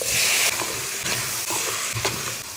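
Garlic, chili, cumin, turmeric, salt and tomato fry for Nepali thukpa in a loud, close sizzle, with a few soft stirring scrapes breaking through the hiss.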